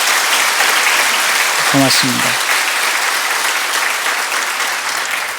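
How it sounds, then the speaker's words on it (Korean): A church congregation gives sustained, loud applause that stays dense throughout, with a voice briefly speaking over it near the middle. "저쪽에 박수로 좀"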